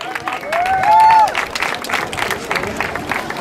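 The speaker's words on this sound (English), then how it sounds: "big round of applause to Robert" A crowd claps steadily in a large room at a city hall grand opening ceremony in Boyle Heights, a dense wash of applause with a brief whistle or cheer rising near the start.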